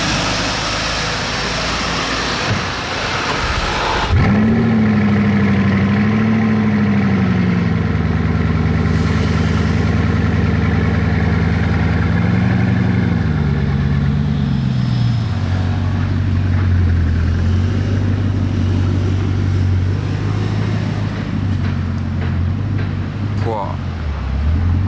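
A grey Ferrari F12 TDF engine revs loudly up and down close by in Monaco, with a strong rising and falling roar that settles into a rumbling idle.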